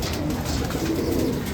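A pigeon in a breeding loft coos in low, rolling murmurs, close and steady across the short stretch, with faint loft ambience behind.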